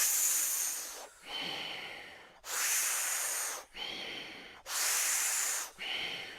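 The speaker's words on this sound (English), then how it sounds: "you're going to inhale mouth, exhale nose" Powerful yoga breath in a Kundalini session, three cycles of forceful inhales through the mouth alternating with sharp, hissy nasal exhales, loud, close and rhythmic with brief gaps between, no talking.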